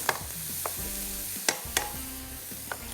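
Onions and minced meat sizzle and get stirred in a pan for tawa qeema, a steady frying hiss with a few sharp scrapes and clinks of a spoon against the metal, close by with no talking.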